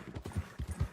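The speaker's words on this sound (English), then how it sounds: "I'm riding the big black horse compared to other horses." Quick, steady clip-clop of a big black horse's hooves in the video game Red Dead Redemption 2, about eight soft thuds in a brisk rhythm, close and clear.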